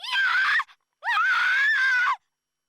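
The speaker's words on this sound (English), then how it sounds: "I suddenly hear a scream." A character in the visual novel Code Realize lets out two loud, high-pitched screams, a short one followed by a longer sustained one, with a brief silence between them and nothing else underneath.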